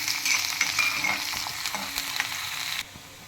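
Finely chopped garlic frying in hot oil for a cauliflower masala poriyal, a dense crackling sizzle with stirring scrapes, loud and close, cutting off abruptly near the end.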